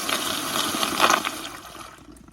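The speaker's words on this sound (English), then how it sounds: "Consider it took 2 flushes to get it down." An American Standard Madera toilet flushes through a short flushometer: a close, steady rush of water that swells in the middle and then drains away to a fading trickle.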